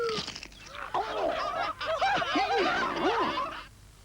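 Chickens and a rooster in a Paxil stuffing TV advert, with a dense flock of loud squawking, clucking fowl calls filling the clip before cutting off near the end.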